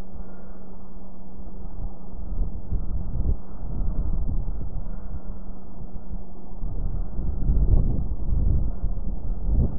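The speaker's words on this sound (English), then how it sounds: "As I get more in altitude, I'm having a harder time fighting the wind." Wind buffets the microphone outdoors near a lake and trees while a Syma X8 drone flies at altitude, a steady low roar with gusty surges, loudest toward the end, with no talking.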